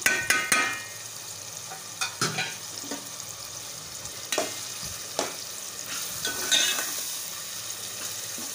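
Tomatoes fry with dried spices for maash daal, giving a continuous close sizzle with sharp clicks and scrapes of a spoon stirring against the pan at irregular intervals and no voices.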